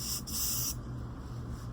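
A spray paint can releases a sharp, close hiss in two short blasts lasting under a second, followed by a quieter background with no talking.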